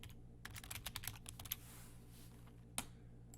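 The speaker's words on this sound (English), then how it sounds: "Let's just go ahead and type something in." Quiet bursts of typing on a computer keyboard, a quick run of clustered key clicks followed by a pause and one last isolated keystroke, close and soft.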